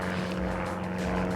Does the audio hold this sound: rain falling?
no